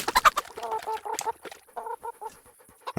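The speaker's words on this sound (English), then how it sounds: "chickens." Chickens cluck in a Kingdom Come: Deliverance game world, a close run of short, choppy clucks in quick bursts with brief pauses between them.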